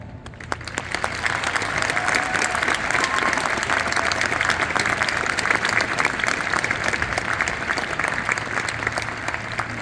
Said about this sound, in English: with the sound all composers and performers love to hear, that of your thunderous applause.